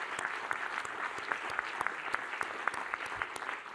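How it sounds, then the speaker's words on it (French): Audience applause for the startups at a wood-construction startup challenge final, a continuous patter of many hands with sharp individual claps standing out against the steady crowd clapping. "j'aurais aimé qu'on leur fasse un tonnerre d'applaudissements"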